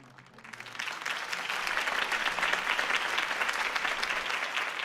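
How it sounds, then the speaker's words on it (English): Video game crowd applause after a political speech swells from a light patter into steady, dense clapping from a large crowd, sustained without any voices over it. "could have heard that applause"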